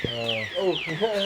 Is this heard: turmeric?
no